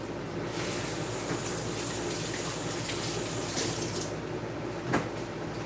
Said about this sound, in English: I'm going to go rinse my hands off.